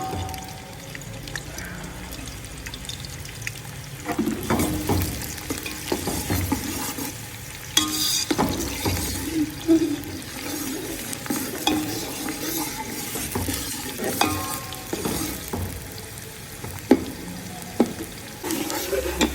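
Three medium-sized onions frying and being stirred in hot oil for beef nalli nihari, a steady sizzle with scraping stirs and clinks of a utensil against the pot running throughout, close and fairly loud with no talking.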